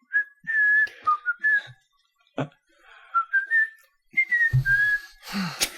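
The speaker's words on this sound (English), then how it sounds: "All of us whistling it." Several people whistling a theme tune together in short melodic phrases, with pauses between them and a brief burst of noise at the end.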